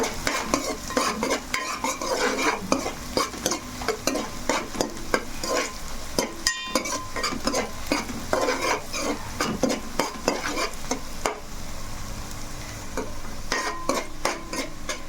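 Pond fish curry fries and is stirred in a pan, a steady crackling sizzle broken by frequent rhythmic scrapes and taps of a spoon against the pan, close and continuous.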